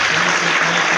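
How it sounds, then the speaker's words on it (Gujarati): An audience at a bilingual English and Gujarati church gathering claps hands in praise, producing a loud, continuous wash of applause throughout with no pauses. "clap your hands and praise the Lord"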